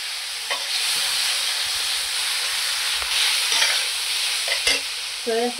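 Soy sauce poured into a hot pan of paneer chilli, a loud steady sizzle with scraping stir strokes and a few sharper clinks near the end.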